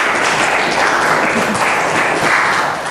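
A classroom of students claps for the first group after its presentation, a loud, close, continuous wash of hand claps that stays steady throughout with no voices on top.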